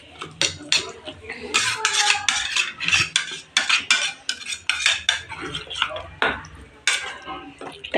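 A spoon clatters and scrapes rapidly against a bowl while coriander leaf paste is mixed, producing dense, rhythmic metallic clinks and stirring sounds, close up.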